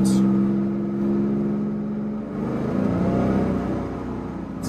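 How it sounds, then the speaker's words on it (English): A 1976 Porsche 911 with its engine enlarged to 2.8 litres drives along with a loud, close engine drone. The note rises and falls slightly as it revs and is heard alone, with no talking. "there's a really beautiful engine note"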